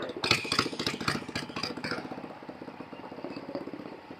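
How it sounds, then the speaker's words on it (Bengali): A motor boat engine chugs on the Sangu river among large boulders, a rapid rhythmic putter that is strongest at first and then fades and softens as the boat moves past, faint and distant. "নৌকা পার হচ্ছে।"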